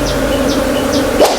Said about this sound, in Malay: Lebah dah mula masuk dalam hive.